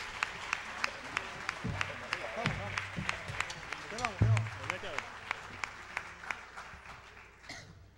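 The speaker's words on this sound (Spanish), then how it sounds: "Vamos a darle un aplauso a él también." Audience applause fills a Spanish-language evening concert, a steady wash of clapping with sharp individual claps standing out and a brief louder swell near the middle before it thins toward the end.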